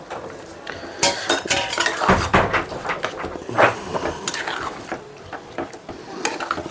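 Potatoes go into a pot of boiling water on a kitchen stove, bringing a run of metallic clanks, clinks and scraping knocks from the pot and utensils at close range.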